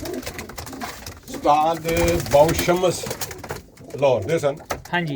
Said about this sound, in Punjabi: ਸ਼ਿਕਰੇ ਕਬੂਤਰ ਬਹੁਤ ਮਸ਼ਹੂਰ ਹੋਏ ਆ